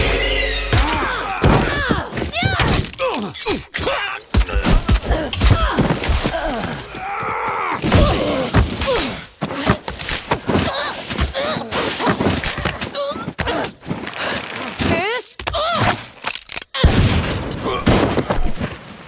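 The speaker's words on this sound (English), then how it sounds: "Sector 7, we hear shots fired" Gunfire in a Valorant cinematic: loud bursts of shots and heavy impacts in rapid, irregular clusters, mixed with crashes and shattering, under tense radio chatter and shouting.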